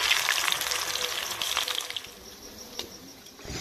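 Potato pieces frying in hot oil: a bright, bubbly sizzle with crackling pops that eases off slightly, broken by a few small splashes.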